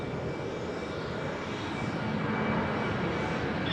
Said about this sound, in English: Look how slow that undercarriage goes up on the 330